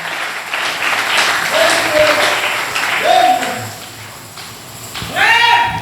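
A church congregation applauds and cheers for the Lord in a broad, sustained wave of clapping and voices that swells again at the end, with cries rising over it.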